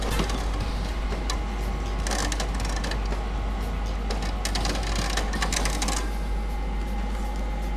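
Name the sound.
MIG welder wire feed motor pushing wire via inch button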